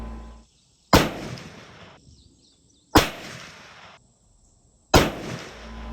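Three sharp, loud rifle shots from a precision rifle firing 777 Magnum pellets, evenly spaced about two seconds apart, each a hard crack followed by a short decaying echo, with near silence between.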